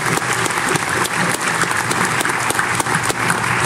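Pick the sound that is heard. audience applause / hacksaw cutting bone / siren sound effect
audience applause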